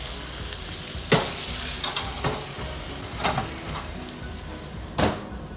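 A rib eye steak sears in a hot pan, a loud steady sizzle with sharp crackling pops and occasional clanks of turning the meat, close and unbroken by speech.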